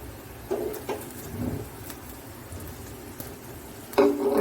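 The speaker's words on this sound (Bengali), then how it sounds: "এবার এর সাথে দিচ্ছি রসুন আর পেঁয়াজ, দুটোকে একসাথে কুচি করে নিয়েছি" Chopped garlic and onion frying together in two to three tablespoons of hot soybean oil for a thin lentil dal, a steady low sizzle with a few stirring scrapes and a louder burst near the end.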